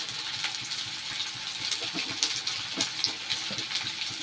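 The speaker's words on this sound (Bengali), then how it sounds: "এবার এই তেলেই পেঁয়াজ দিয়ে দেব।" Onions fry in hot oil in a pan with a soft continuous sizzle and small crackles, fairly quiet and close, with no talking.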